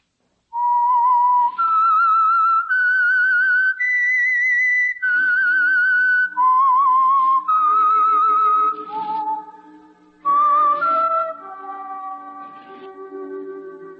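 A clear whistled melody of sustained, stepping notes, the signal tune of an old radio program, loud and close, with a soft lower accompaniment entering toward the end.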